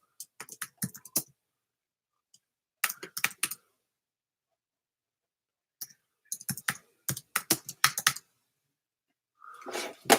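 Bursts of rapid keyboard typing, clattering keys in short runs separated by quiet pauses, close and fairly crisp.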